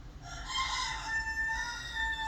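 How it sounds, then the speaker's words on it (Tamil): A white rooster crows in a long, drawn-out call with bright, steady tones, moderately close and sounding alone without any voices. "நான் வளர்த்த வெள்ளை கோழி கூவுகிறது."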